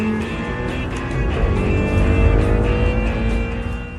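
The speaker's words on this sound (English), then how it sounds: "Stephen Strange is driving late at night on a winding road, in the rain, while passing other cars" Car driven fast at night on a winding rainy road, passing other cars, a loud continuous engine drone rising slightly in pitch, with no talk.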